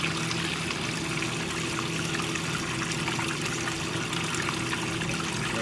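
Dirty, dark water drains steadily from a washing machine, a continuous close-up trickling and pouring rush with a low mechanical hum beneath, even and unbroken throughout.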